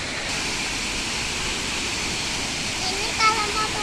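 Songgolangi waterfall roars as a steady, loud broadband rush of falling water filling the scene, with faint voices briefly audible near the end.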